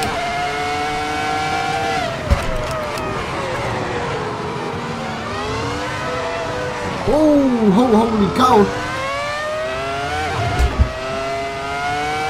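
A Ferrari F2004 V10 Formula 1 car racing at Silverstone in the Assetto Corsa video game, its high-pitched engine wailing up and down through gear changes with sharp shifts and a brief rising howl. A man exclaims once over it.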